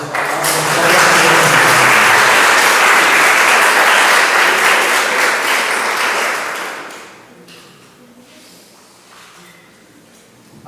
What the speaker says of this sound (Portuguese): Eu quero que você aplaude essa palavra